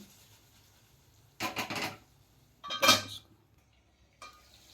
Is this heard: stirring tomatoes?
yes